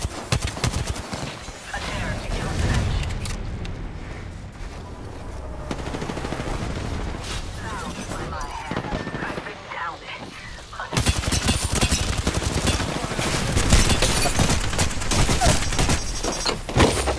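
Apex Legends combat: rapid automatic gunfire and single shots in dense bursts, loud and close, with a heavier stretch of firing near the end and a player talking over it.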